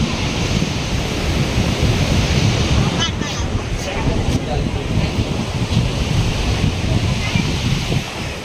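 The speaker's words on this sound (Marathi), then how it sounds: "निसर्गरम्य ठिकाण रंदा फॉल." Randha Falls at Bhandardara pours in a continuous broadband roar, steady and loud, with wind buffeting the microphone and faint voices now and then.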